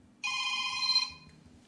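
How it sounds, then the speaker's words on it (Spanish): A telephone rings once with a bright electronic tone, loud and steady for under a second at a business taking calls from customers about new electricity tariffs, then cuts off into quiet background. "El teléfono de Antón echa humo estos días con las dudas de los clientes."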